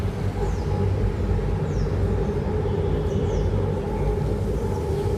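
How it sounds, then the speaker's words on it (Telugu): A train passes along a railway track near a road and a large tree, giving a loud, steady close rumble from start to finish with faint bird chirps above it. "అదిగోండి ట్రైన్ కూడా వచ్చింది."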